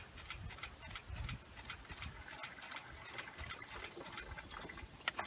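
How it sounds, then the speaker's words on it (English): Liquid poured for splash photography trickles and splashes steadily into a container, a close, faint, continuous wet pattering with a few brighter splashes. "and just start pouring"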